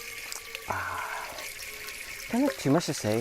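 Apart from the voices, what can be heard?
water filling water bottles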